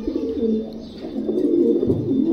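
A ten-year-old racing pigeon with a congenital leg problem coos in low, throaty, repeated phrases, close and fairly loud, with no talking.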